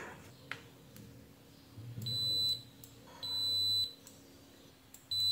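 A multimeter sounds short, high continuity beeps while testing a computer mouse microswitch during a left-button repair, several brief tones with faint clicks between them and no talking.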